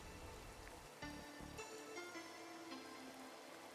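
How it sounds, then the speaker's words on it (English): Steady rain falls in the Darkside Detective 2 video game, a soft continuous patter with scattered drip-like ticks, faint and even throughout, no voices. "The hills are alive with the sound of raining."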